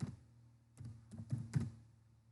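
A handful of soft computer keyboard keystrokes typing a search term, heard as faint, close, uneven taps clustered together with brief pauses between them.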